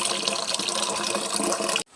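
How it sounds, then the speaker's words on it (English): Tap water gushes into a pot being filled for spaghetti in a kitchen in Puerto Morelos, Mexico, a steady loud splashing rush that cuts off abruptly near the end. "So we're just going to fill this up and get this water boiling for our spaghetti"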